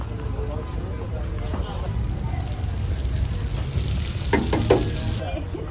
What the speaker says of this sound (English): They are actually frying this one, as you saw